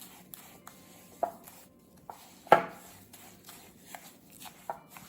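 A spoon stirs a lip scrub mixture with oils, giving soft, wet scraping and squelching strokes at an irregular pace, close and fairly quiet, with one louder swish partway through.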